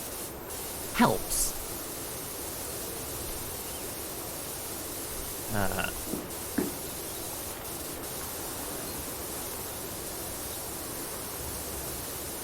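Steady broadband hiss of a pressure washer spraying in PowerWash Simulator runs continuously throughout, with a few brief louder bursts and a soft voice speaking briefly over it.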